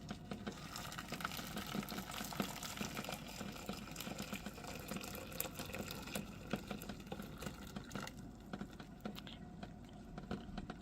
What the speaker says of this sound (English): Now to that, add about 4 cups of hot water.